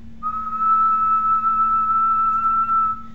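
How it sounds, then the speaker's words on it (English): A single steady whistled tone, held clean and even for about three seconds over a faint low hum, sounding close and fairly loud. "I'll whistle a little bit lower now"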